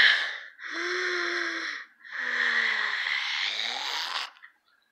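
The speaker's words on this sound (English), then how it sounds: "Just breathe." Deep, drawn-out breaths, three long wheezy inhale and exhale passes, loud and close, each lasting over a second with brief pauses between, ending abruptly in silence.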